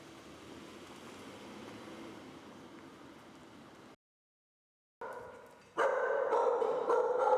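Dogs barking at a dog ranch shelter housing many dogs, a steady chorus of barking at moderate distance that stops briefly, then returns louder and denser in the final seconds, with no talking.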